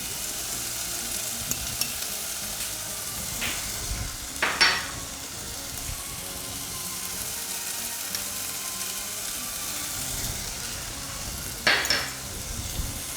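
Garam masala, garlic and ginger fry in a pot with a steady broadband sizzle, while a spoon stirs through it with a few sharp scraping clinks against the pot.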